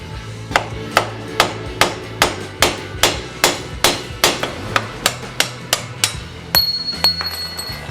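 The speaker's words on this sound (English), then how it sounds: "hit from below with a round socket wrench head" A metal socket head hammered against a motorcycle handlebar bearing on a Honda TransALP 650, about a dozen sharp, evenly spaced metallic blows close up, each ringing briefly.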